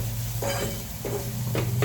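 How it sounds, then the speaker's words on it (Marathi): Spices sizzle and crackle in hot oil in a pan as a tempering for potatoes, with a few short scraping bursts of stirring over a steady frying hiss. "इवन बटाट्याला पण आता मी फोडणी देते"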